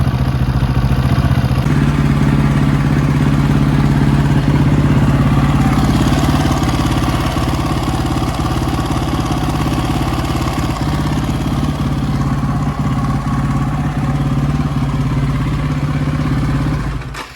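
A 2007 KTM 525 motorcycle engine runs loud and close for the whole stretch, a steady throbbing hum with a slight clatter and no voices.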